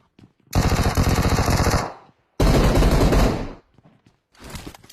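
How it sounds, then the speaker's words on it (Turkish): Video game gunfire in two long automatic bursts of rapid, loud, close shots, each lasting over a second, separated by a brief silence, followed by a fainter trailing sound. "Arkasından gittim silahla dönüp bana vuruyor ya."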